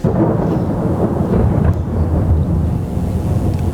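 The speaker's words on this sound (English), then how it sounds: "Can't you hear the thunder in the distance?" Thunder rolls in a low, continuous rumble that swells and fades with a rough, windy texture, loud and unbroken throughout.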